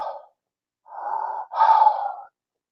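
A voice imitates intense breathing with a short exhale followed by two longer, forceful breathy gasps, close and alone with silence in between.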